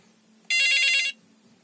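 A skull-shaped novelty telephone rings once with a loud, bright electronic tone that lasts about half a second and then stops, with a faint hum before and after.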